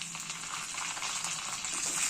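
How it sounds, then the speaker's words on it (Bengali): Chilli powder hits hot oil with fried garlic and cumin for a dahi tadka, giving a soft, steady sizzle that stays close and even over a couple of seconds with no talking. "ভাজা হয়ে গেলে এবার দিয়ে দেব গুঁড়ো লঙ্কা।"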